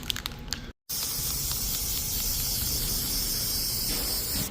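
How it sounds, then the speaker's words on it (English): A can of graphite lubricant sprays a steady hiss onto corn planter plates, continuous and close after a short silent gap, with faint clicks beforehand. "It's a graphite lubricant spray-on stuff."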